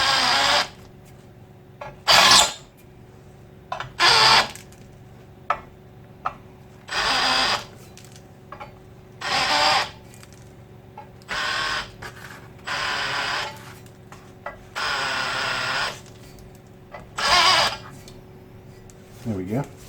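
Pillar drill boring into steel parts for a tyre machine, a series of short whirring and grinding bursts, about a dozen of them at irregular intervals, close and fairly loud against a quiet background hum.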